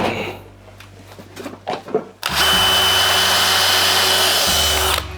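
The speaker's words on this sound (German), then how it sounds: "Soll ich jetzt das alles aufbohren? Das mache ich." A power drill bores into wood, running loud and steady for about three seconds close by after some quieter handling and movement noises.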